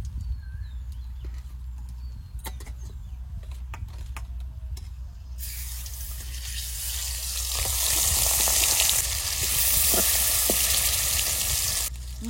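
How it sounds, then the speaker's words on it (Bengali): Fish frying in hot oil until red and crisp: faint clatter and handling at first, then a loud, steady sizzle that swells midway and holds to the end. "এই দেখুন লাল লাল করে ভেজে নিয়েছি মাছগুলো"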